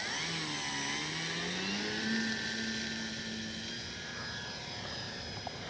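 The electric motor of a Dynam Beaver V2 RC airplane spins up for takeoff, a high whining buzz that rises and shifts in pitch as it accelerates, steady and fairly close.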